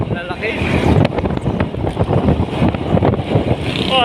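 Strong wind gusts buffet the microphone in a loud, continuous rush, with irregular bursts of rumbling noise throughout.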